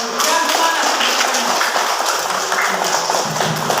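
Children in a classroom clap their hands in a dense, steady patter of many claps, loud and sustained, with some voices mixed in beneath.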